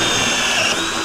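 A power drill whines continuously as it bores holes through PVC on a jet ski trailer being converted for a kayak, loud and close with a steady high motor tone.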